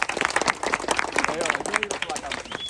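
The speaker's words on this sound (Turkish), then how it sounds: "Bir alkış alabilir miyiz arkadaşlar?" Dense, steady clapping from a crowd at a calisthenics meetup, with a few whistles and cheers mixed in, carrying on for the whole stretch.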